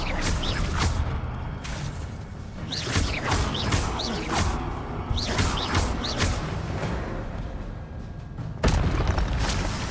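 Incendio fire spell cast in Hogwarts Legacy, heard amid repeated whooshing bursts and booming magical impacts across a busy combat mix, with fiery crackling blasts recurring every second or so and a louder burst near the end.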